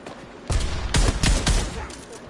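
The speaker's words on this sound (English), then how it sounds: "I threw a grenade up there." Grenade blast and combat in Avatar: Frontiers of Pandora, heard as a cluster of loud, sharp booms and bangs in quick succession, fairly close, with a lingering rumble after them.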